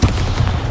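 A Bombarda explosion spell bursts in the Hogwarts Legacy video game, a short, heavy blast with a dense low rumble that stays loud through the brief moment, with no talk over it.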